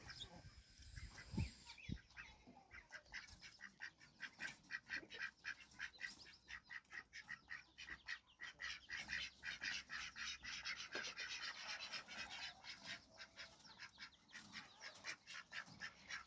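Ducks quack in a rapid, repeated chatter that runs steadily for several seconds, close by and fairly faint, with a few sharp knocks near the start.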